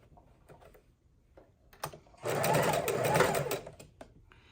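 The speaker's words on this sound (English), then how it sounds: "pull up our center piece and sew this" A sewing machine sews pinwheel quilt block pieces in a short, close burst of rapid stitching lasting a second or so, framed by quiet handling clicks and fabric rustle.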